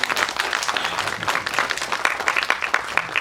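An audience claps at a Tamil film audio launch event, with a dense, crackling spread of many hands forming sustained applause with a slightly roomy, crowd-filled character and no speech on top.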